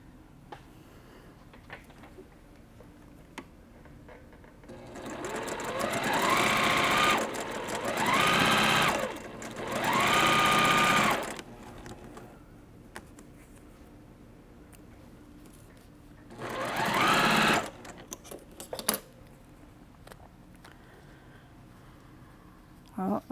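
A sewing machine stitches a quilt block in several loud, sustained bursts of rapid whirring, with quiet handling sounds and pauses between runs.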